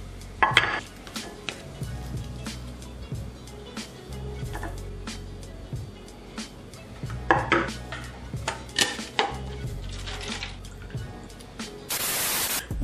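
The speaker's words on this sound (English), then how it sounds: "I put the pan on the stove" Clanks and scrapes of a pan being set down and handled on a kitchen stove while making oatmeal and eggs, close metallic knocks scattered among low kitchen noise, ending in a steady hiss.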